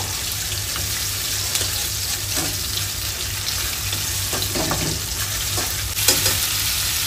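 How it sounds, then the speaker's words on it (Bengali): Shrimp frying in oil in a pan for fried rice, a steady close sizzle with occasional scraping stir clicks, no talking. "আমি চিংড়িকে ভেজে নিব 1 মিনিটের জন্য"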